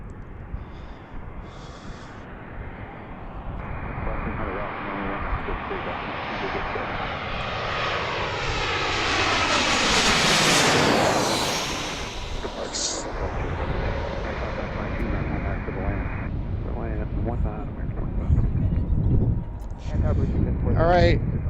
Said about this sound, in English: this is our last plane from Tampa